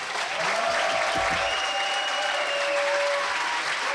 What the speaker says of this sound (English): I want the applause here to be louder than the one next door.